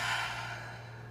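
One long, soft breathy exhale, close by, tapering off gently with a faint steady hum underneath.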